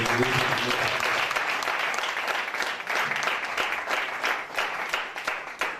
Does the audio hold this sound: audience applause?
yes